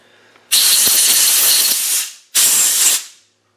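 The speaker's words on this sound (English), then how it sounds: "brake cleaner, I'm just going to clean up the bits and pieces" Brake cleaner hisses from an aerosol can onto power steering pump parts from a 300Tdi, two loud close bursts of spray, the first long and the second shorter, with a brief gap between them.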